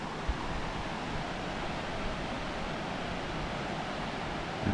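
Teresa Creek pouring over Linya Falls near Ravenshoe, a steady broadband rush of falling water filling the whole stretch without a break, close and fairly loud, with no voices.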